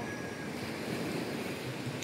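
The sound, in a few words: strong wind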